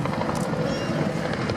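A Westland Sioux helicopter with a Lycoming petrol engine flies at an air day at RNAS Yeovilton, a loud steady rotor chop and engine drone without pause.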